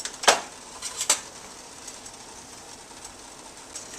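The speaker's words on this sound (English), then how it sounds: "mix it up, and stir until it starts to thicken" Vanilla pudding is stirred in a pot, with two sharp spoon-on-metal clinks near the start and then a soft, steady scraping swirl, close and alone without talk.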